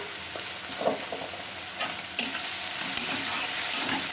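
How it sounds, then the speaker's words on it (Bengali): Chopped onions with a pinch of salt fry over a high flame in a pan, giving a constant bright sizzle with occasional stirring scrapes and clinks, close up and with no talk. "এইভাবে ফ্লেমটা বাড়িয়েই পেঁয়াজটা ভাজবেন।"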